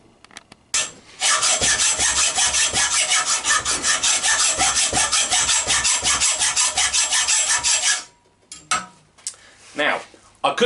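Metal tube being cut with a hand saw in a workshop: a long run of fast, even rasping back-and-forth strokes, loud and close, stopping abruptly before a few short scrapes.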